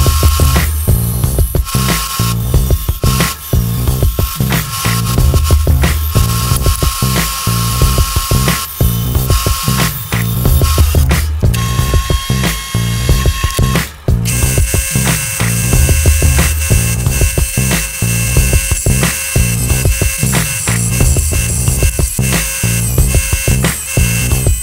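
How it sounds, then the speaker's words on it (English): A Shapeoko 3 CNC machine cuts a 6061 aluminum key ring, giving a steady, loud, high-pitched whine with rhythmic chattering from the cutter and no voices. "Like this is 6061 aluminum, and you can see that it machines real nice."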